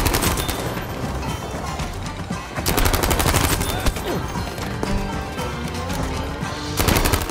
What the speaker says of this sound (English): Oh, this was a nice nade.